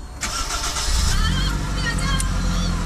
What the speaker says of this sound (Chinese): 这个发动机声音还是很透，没什么其他噪音，真的不错